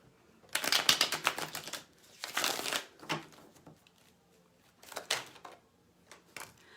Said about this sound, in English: I'm going to clarify with this Deviant Moon Tarot and give it a shuffle.